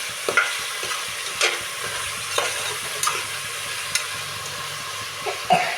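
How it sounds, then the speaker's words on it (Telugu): Prawns sizzle steadily in a pan while being cooked down for biryani, with soft frying hiss throughout and a few sharp stirring scrapes and clinks at irregular intervals, close and fairly quiet. "రొయ్యలు అందులో వేసుకోవాలండి. వీటిని బాగా మగ్గించుకోవాలి."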